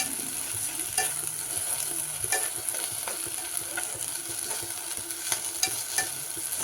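Mango halwa frying in a pan with sugar added: a continuous close sizzle broken by repeated sharp clicks and scrapes of a spoon stirring against the pan.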